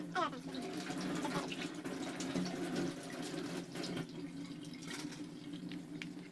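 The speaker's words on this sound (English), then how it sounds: "Wash and dry the nebulizer, tubing and mask, or mouthpiece with warm soapy water." Nebulizer parts, tubing and mask rinsed under a running tap with warm soapy water; a continuous close splashing flow with small shifts, soft and steady throughout.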